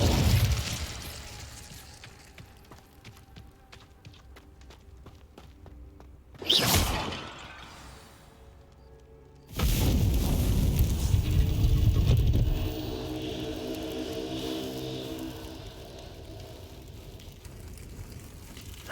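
A fiery Incendio spell bursts out in Hogwarts Legacy, a sudden whooshing blast followed by a longer roaring rush of flame over a quiet game ambience.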